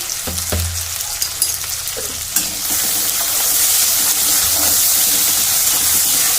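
Biryani masala and salt sautéing in a pan for a Bengali rohu fish biryani, a steady close sizzle with stirring scrapes that swells louder partway through.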